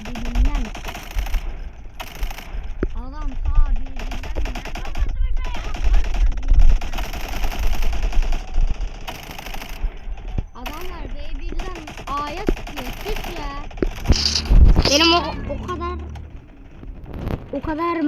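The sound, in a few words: gunfire in the video game Minecraft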